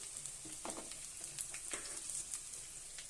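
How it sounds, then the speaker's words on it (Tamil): Garlic cloves and curry leaves sauté in a pan with a soft, steady sizzle and faint crackles and pops scattered through, heard alone and fairly quiet. "உள்ளியும் வெள்ளைப்புடு ஒரு பத்து பல் போட்டிருக்கேன் நல்லா வதங்கட்டும்"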